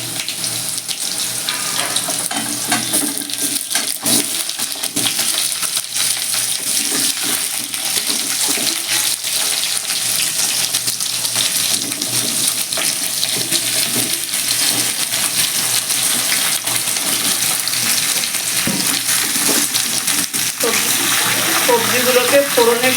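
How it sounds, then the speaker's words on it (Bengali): Mixed vegetables for a Bengali panchmishali chorchori frying in hot oil over a spice tempering with chili: a loud, continuous sizzle and hiss that holds steady throughout. "সবজিগুলোকে ফোড়নের সঙ্গে মিশিয়ে ভালো করে প্রথমে একটু ভেজে নেব।"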